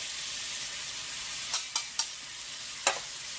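Butterbur stems stir-fry in a pan with a steady, close hiss of sizzling oil, broken by a few sharp scrapes and clacks of the spatula near the end.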